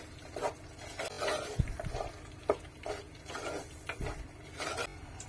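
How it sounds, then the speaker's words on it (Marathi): A soft sizzle as spice paste sautés in oil under repeated stirring and scraping in a pan, with light clinks of a utensil, no voices. "वाटण तेलावरती छान असं परतवून घ्यायचंय"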